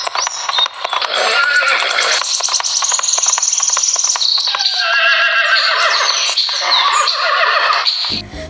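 A horse carrying a young rider in royal dress arrives at a party, neighing loudly and repeatedly with whinnies over steady clip-clopping hooves; the sound stays close and full throughout, with no talk.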